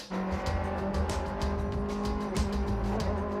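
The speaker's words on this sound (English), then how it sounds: "please welcome our latest, all-new Bentley" New Bentley endurance race car engine running loud and steady, a continuous throaty roar with faint tire noise and no talking.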